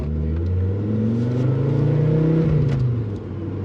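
A Ford Fiesta RS fitted with a Focus RS 2.5-litre turbo engine accelerates, its steady engine note rising and falling through the gears, heard loud and close from inside the car without talk.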